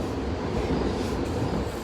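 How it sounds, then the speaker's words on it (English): Steady rumble and rolling hum inside a VTA light rail train while riding, continuous and moderately loud throughout with no clear voices. "We're on the light rail."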